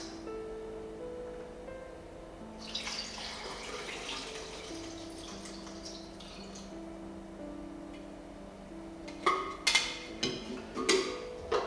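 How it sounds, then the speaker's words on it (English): A film developing tank holding Ilford Pan F Plus 50 is rotated and agitated by hand. Soft liquid sloshing and faint handling build through the middle, then a few sharp close knocks and clicks come near the end. "We will just give that a bit of a rotate and a bit of agitation to get started."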